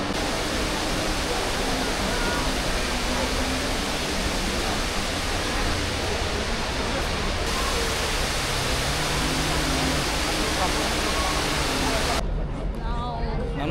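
The indoor waterfall at the Dubai Mall gives off a constant, loud, even roar of falling water, with faint crowd murmur mixed underneath throughout.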